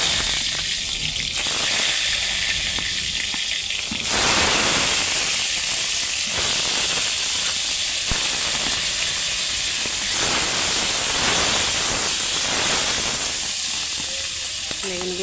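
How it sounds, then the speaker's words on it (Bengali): Brinjal pieces frying in mustard oil in a wok give off a steady, loud hissing sizzle that holds for the whole stretch, with brief swells and a faint voice in the background. "বেগুনগুলো ভেজে নিয়ে তোমাদেরকে দেখাচ্ছি।"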